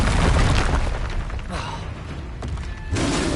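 Confringo blasting-spell explosions from Hogwarts Legacy gameplay: loud booming bursts open the clip, ease into a rumbling mid-section with crackling debris, then a fresh blast hits near the end.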